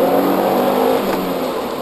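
A Subaru Impreza GC8 with an EJ20 engine drives with a steady, loud engine drone heard from inside the cabin, holding an even pitch throughout; no voices.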